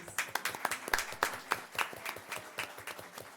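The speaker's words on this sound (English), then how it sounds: "Another round of applause, please" A small audience at a Hispanic Heritage Month celebration claps, the individual sharp hand claps clearly separate in a quick, uneven rhythm rather than a dense roar.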